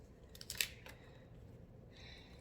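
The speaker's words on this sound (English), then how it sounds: "I'm using regular scissors" A few crisp snips of regular scissors trimming a bridal bouquet close by, clustered in a quick burst, then a quiet pause and a faint rustle, with no talking.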